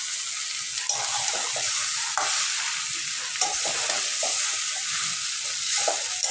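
Fried onions are stirred into a jackfruit curry in a pan, with steady sizzling and frying and repeated soft scraping strokes of a spoon. It is close and continuous and has no talk.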